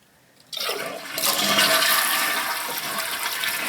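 A toilet flushes with a loud rushing, splashing surge of water that starts abruptly and keeps churning steadily close by.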